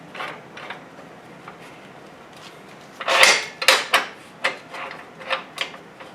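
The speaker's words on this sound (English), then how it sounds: "I'm going to come in with the clamp." The vise clamp on an Evolution S355MSC metal cutting miter saw ratchets tight against rusty square tubing, a series of sharp metallic clicks and clanks that grow louder toward the end.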